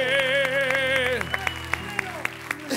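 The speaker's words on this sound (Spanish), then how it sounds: "¡Con el aplauso de todos" Audience applause at a live Spanish-language comedy and music stage show, starting after a held tonal voice or music note and then continuing as scattered, distinct claps.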